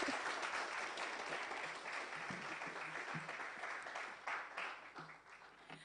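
Audience applause at a climate and sustainability conference, a steady wash of many hands clapping that carries on throughout and thins slightly toward the end.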